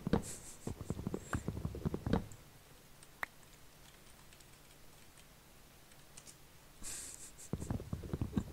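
Quick bursts of computer keyboard typing during a Polycraft game session, rapid soft clicks at the start and end with a quiet stretch between.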